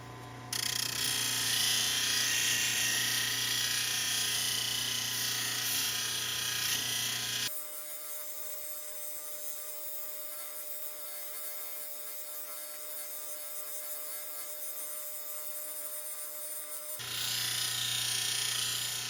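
A lapidary grinder's 280-grit wheel works a piece of Arizona agate, giving a loud, steady abrasive whine with the stone pressed hard at the start and end and a quieter motor hum in between.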